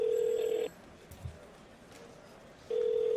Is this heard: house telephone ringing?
yes